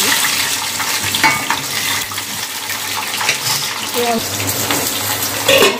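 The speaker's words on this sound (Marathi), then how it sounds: "आता ह्या ज्या मिरच्या होत्या त्यांनाही आपण तेलामध्ये फ्राय करून घेऊया" Green chillies sizzle in hot oil in a home kitchen while making a peanut chutney, a continuous crackling hiss with occasional spatter and stirring knocks, a voice briefly heard.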